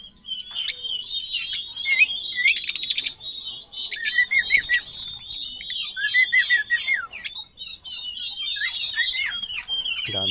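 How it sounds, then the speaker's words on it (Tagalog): African birds at a farm in Cabuyao, Laguna chirp and tweet in rapid, overlapping high calls, with a few sharp squawks and trills, loud and close, continuing throughout. "Meron din dito ang African birds."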